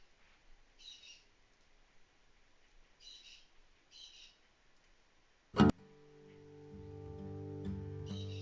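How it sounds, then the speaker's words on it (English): A bird sings faintly in the background in short chirping phrases repeated every couple of seconds, then a sharp loud knock is followed by a sustained electronic hum and tone. "I was hoping that the bird wouldn't be audible."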